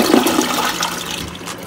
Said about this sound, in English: So let's flush here and see if we get the same bubbles and freshness that we got downstairs.